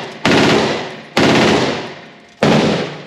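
A rare, expensive automatic gun fires at the Battlefield Vegas shooting range. Three loud, close bursts each ring out for about a second, with a short gap between them, and no talk.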